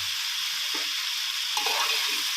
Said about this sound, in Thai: ตามด้วยใส่ข้าวลงไปนะครับ ใส่ไข่แล้วก็ใส่ข้าวลงไปนะครับ